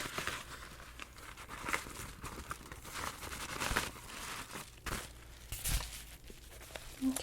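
Papers are slid back into an envelope close up, with soft crinkling, rustling and brief crisp paper handling sounds, quiet and steady with a few sharper taps.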